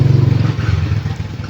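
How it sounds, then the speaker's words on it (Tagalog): Motorcycle passing close by on a street, a loud, throbbing low engine rumble with rapid pulsing that stays strong before easing slightly as it moves on. "wait lang natin dumaan yung motor kasi maingay"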